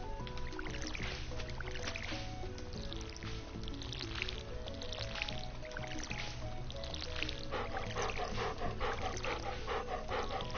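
An excitable dog in the Stardew Valley video game pants and huffs in quick repeated bursts over a continuous background bed, moderately loud and close.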